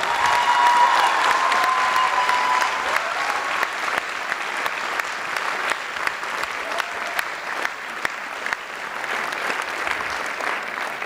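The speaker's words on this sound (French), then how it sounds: "Encore un tonnerre d'applaudissements pour tous les loulous de cette..." Audience at a children's dance school show claps steadily and loudly for about eleven seconds, a dense sustained applause with scattered louder claps and faint crowd murmur underneath.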